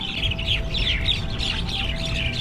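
Agitated birds in Chiang Rai, Thailand squawk and chatter repeatedly in a steady, busy stream over a low background rumble, fairly close and loud.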